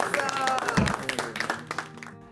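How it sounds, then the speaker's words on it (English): A small group claps and cheers after a shared storytelling session with older adults, brief scattered claps mixed with lively voices talking and laughing. "I think that story deserves a round of applause for it."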